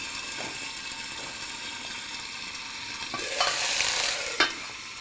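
Ginger and garlic fry in oil with a steady, moderate sizzle, stirred now and then, the hiss swelling louder near the end with a sharp clink.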